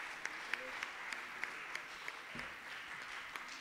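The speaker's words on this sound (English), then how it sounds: "They deserve a rousing round of applause." Audience applause at a church quarterly service, honoring the worship team: a thin, fairly quiet patter of clapping from a modest crowd, with a few sharper individual claps standing out over the steady wash.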